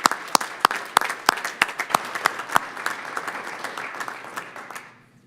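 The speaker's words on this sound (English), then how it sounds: "a little round of applause is due her." A round of applause for the city clerk breaks out at a city council meeting: a few sharp, separate claps at first, then dense clapping from the room that holds steady and fades out near the end.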